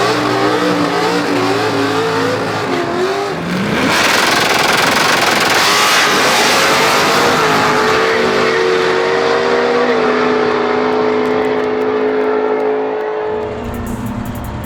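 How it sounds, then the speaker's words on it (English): A loud 430-cubic-inch LSX V8 in an 850-horsepower street drag car revs hard, climbing into a sustained roar with crackling exhaust, then falls back to a rumbling idle near the end. "LSX 430 cube, 850 horsepower, street car."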